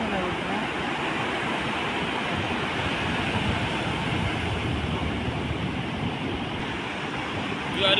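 Sea waves wash onto Jamunasul beach at high tide, a steady broadband roar of surf with wind noise, continuous and fairly loud with no breaks.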